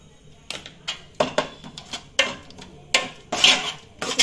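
A pot of Tulu-style mackerel curry (bangude pulimunchi) being stirred with a spoon, giving repeated scraping clinks and knocks against the pot, close and fairly loud, in uneven bursts.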